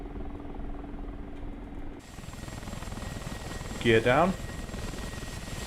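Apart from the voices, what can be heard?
Mi-24P Hind helicopter rotor and engine in DCS video game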